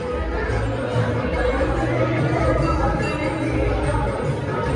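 Steady crowd chatter fills a busy temple at Khatu Shyam or Salasar Balaji, a continuous dense babble of many voices with faint clinks, close around the listener throughout.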